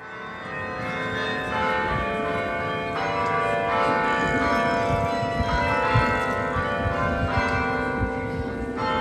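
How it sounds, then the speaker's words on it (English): Church bells in York, England ring steadily and loudly in a continuous peal, several bells overlapping in a rich, sustained tune with no talk. "enjoyed the songs that the church bells played throughout the day"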